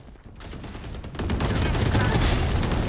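Rapid gunfire in the Valorant video game, a dense fusillade that builds after a quieter opening and stays loud and continuous to the end.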